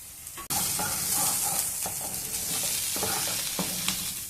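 Raw spice masala with tea seeds, raw coconut, coriander and cumin fries alongside raw banana pieces in a pan, hissing with a strong continuous sizzle broken by repeated scraping stirs.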